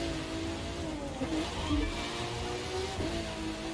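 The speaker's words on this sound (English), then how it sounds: "You start accelerating around these corners and your tires just start to smoke." Race car engine in The Crew 2 video game, a steady mid-pitched drone that rises and swells as the car accelerates through corners, with faint tire squeal. No one speaks.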